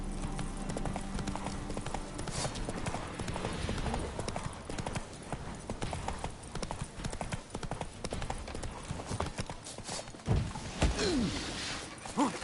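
Horse hooves clip-clop steadily through a Witcher 3 game scene, a continuous rhythmic trot under ambient game sound, with a brief heavier thump near the end.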